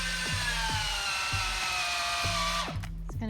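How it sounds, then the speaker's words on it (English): A power drill whines steadily as it bores through wooden pergola beams, with a sustained high motor pitch and rhythmic clicking pulses, then winds down near the end. "she's drilling through the beams."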